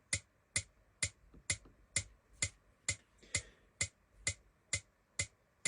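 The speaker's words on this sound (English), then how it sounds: "this is where we can turn on the metronome" A Yamaha PSR-SX920 keyboard's built-in metronome ticks at a slow, perfectly steady tempo, with crisp, evenly spaced clicks sounding alone and up close.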